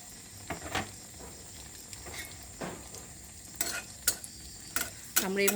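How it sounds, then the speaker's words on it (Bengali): Stuffed bread pockets fry in oil in a pan, a soft steady sizzle broken by several sharp clinks and scrapes of a utensil against the pan, close and fairly quiet, with no voices. "আমরা এইভাবে করে প্রত্যেকটা এখন ভেজে নেব।"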